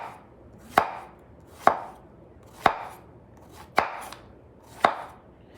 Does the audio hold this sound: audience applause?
no